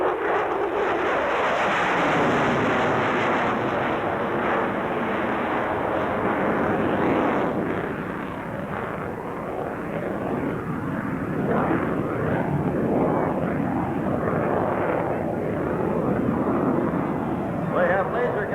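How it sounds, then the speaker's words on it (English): F-16 Fighting Falcon jets at a 1994 air show in Clark County, Indiana: a loud, sustained roaring jet rush that swells and eases over the whole stretch, with wind buffeting the microphone. "These F-16s are capable of day and night operation."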